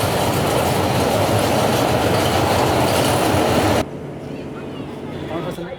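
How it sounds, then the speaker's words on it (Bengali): A train rolls past a park in Dhaka, a loud, steady rumble of wheels and cars that cuts off abruptly, leaving quieter ambient noise behind. "ওই যে আবার ট্রেন যেতেছে এখানে একটা ট্রেনের রাস্তা আছে চক চক চক চক করে ট্রেন যেতে"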